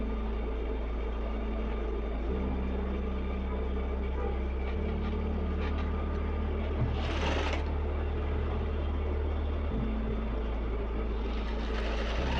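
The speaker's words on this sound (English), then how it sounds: "sewing the fabric and also the lining at the same time" A sewing machine hums continuously while stitching corset fabric and lining together, its drone shifting in speed through the run, close up, with faint handling sounds over it.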